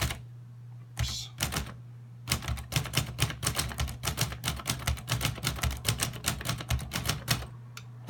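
Brisk run of key strikes on a 1939 Underwood Noiseless Portable typewriter, a steady close-up patter of muffled clacks with short pauses, a low constant hum beneath and a faint bell-like ping near the end.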